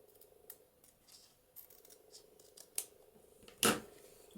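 Scissors snip paper to trim a papercraft embellishment, a handful of faint, close, irregular cuts with one sharper louder snip near the end, in a quiet room without talk.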